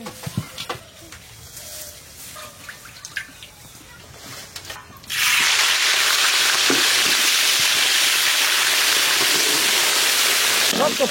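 Chicken roast hitting hot oil in a pan: after a few seconds of quiet kitchen clatter, a sudden loud, steady sizzle bursts out and holds, close and dense, with a faint voice early on.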